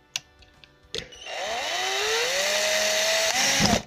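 Power drill driving into a wooden workpiece while building a camera slider, a few clicks and taps at first, then a steady whine whose pitch rises and holds, close and fairly loud.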